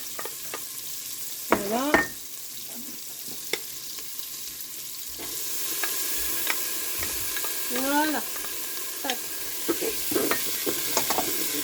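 Onions and shallots sizzle steadily in 50 g of salted butter while cooking a lettuce soup, with close utensil scrapes and knocks against the pan as they are stirred, and a few brief spoken words.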